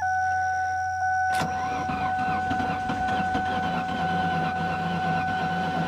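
An old free car's engine cranks once with a sharp catch and then runs roughly and unevenly, its rattling idle continuing close by alongside a steady electrical whine, with no speech.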